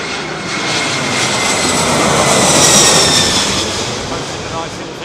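A classic Boeing 747 airliner landing at Heathrow in stormy weather, its engines giving a broad, loud roar that swells toward the middle and slowly fades, with a voice talking underneath.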